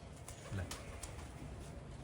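Faint pigeon cooing, a low soft coo or two, under steady rain noise and distant rumble.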